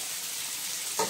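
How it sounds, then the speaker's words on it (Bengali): Cumin seeds and onion frying in a pan for tadka dal, a soft continuous sizzle with a brief stirring clatter near the end, no talk. "ঠিক এইভাবে যখন এরকম ভাজতে ভাজতে একটু পেঁয়াজটা কালার চলে আসবে"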